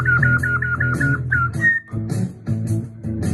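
A man whistles palatally in a quick run of short, bright trilled notes followed by a few longer tones, close and clear with no talking.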